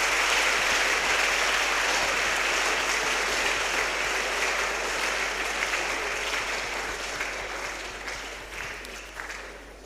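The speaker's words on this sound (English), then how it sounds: "let me ask all of you to give them a big round of applause" A large audience at a national public speaking competition semi-final claps in a sustained, dense round of applause that holds steady, then gradually thins and fades toward the end.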